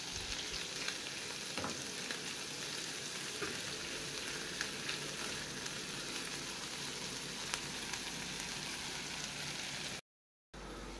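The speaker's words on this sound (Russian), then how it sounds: "Все, добавляем сюда укропчик и все хорошо перемешиваем." Fresh dill frying in melted butter in a pan, giving a soft steady sizzle and crackle with occasional light stirring clicks, fairly faint and continuous, no talking.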